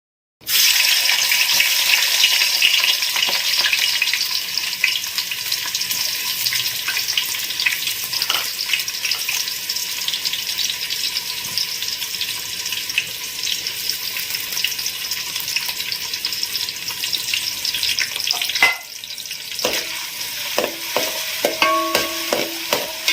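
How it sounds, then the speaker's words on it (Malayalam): Chopped shallots with crushed ginger and garlic frying in hot coconut oil: a loud, continuous close sizzle with occasional spoon clinks and scrapes against the pan, plus a brief run of water near the end; no speech. "ഓയിൽ നന്നായിട്ട് ചൂടായി വന്നതിൻ്റെ ശേഷം എൽക്ക് മൂപ്പിക്കാനുള്ള സാധനങ്ങളൊക്കെ ഇട്ട് കൊടുത്തു അരിഞ്ഞു വെച്ച ചെറുള്ളിയും ഇഞ്ചി വെളുത്തുള്ളി ചതച്ചതും"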